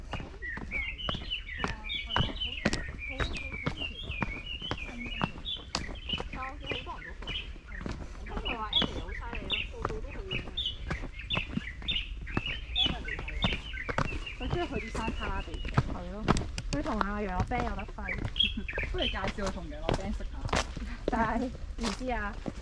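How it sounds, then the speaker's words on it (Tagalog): Birds chirp and call repeatedly along a mountain trail, with bright, varied tweets coming in quick bursts close by, while people talk intermittently. "Saya ng mga ibon"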